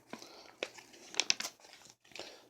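Sticky plastic wrapping being peeled and torn off a magazine, quiet crinkling and crackling in short irregular bursts with a few sharper rips, close and faint.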